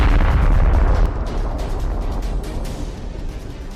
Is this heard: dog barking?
no